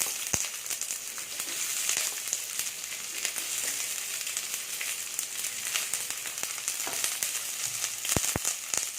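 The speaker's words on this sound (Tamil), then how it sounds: "கொஞ்சமாக உப்பு போட்டு வதக்கிக்கலாம்" Two large onions, cut into long strips, sauté with a little salt in a pan for kadalai curry, giving a continuous close sizzle broken by a few sharp stirring clicks and taps.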